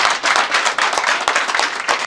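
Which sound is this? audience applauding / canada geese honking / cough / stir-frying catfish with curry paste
audience applauding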